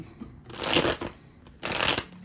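Tarot cards being shuffled by hand, two quick riffling bursts close up, each lasting about half a second with a short pause between.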